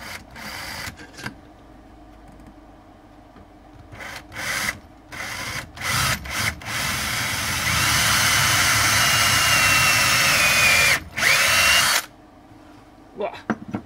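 A power drill bores into a custom Rebellion V guitar body, first in short stop-start bursts, then in a long steady whine before more brief spurts, with talk heard between them.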